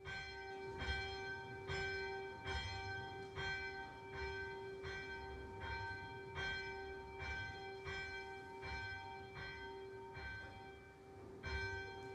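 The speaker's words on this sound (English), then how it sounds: "Can we please ring our church bell in honor of the deceased?" A church bell tolling at a memorial during a worship service, steady evenly spaced ringing strokes with a sustained resonant tone between them, moderately distant and alone.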